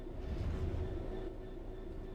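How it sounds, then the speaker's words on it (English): A train in the Train Sim 3 video game rumbles steadily under braking, with a low rolling drone and a faint sustained tone over it. "Bring this train to a complete stop by holding the brake control in the apply state"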